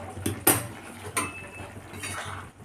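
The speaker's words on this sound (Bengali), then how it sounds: "এবার আমি চাপাটা খুলছি।" A metal lid lifted off a pot of boiling potatoes on a gas stove, giving a couple of sharp clinks and a brief metallic clatter over a low kitchen hum.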